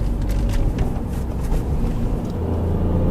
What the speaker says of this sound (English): going uphill in 4th gear now